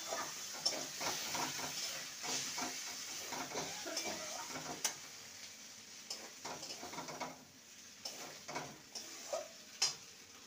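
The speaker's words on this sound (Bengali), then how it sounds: "এবার ভেজে রাখা কচুগুলো দিয়ে দেবো। ভালো মতন নেড়ে নেব কচুর সঙ্গে।" Fried taro pieces stirred into cooked spice masala in a pan for gathi kochur dom, with soft scraping strokes and clicks of a spoon against the pan over a faint, steady sizzle, close and fairly quiet.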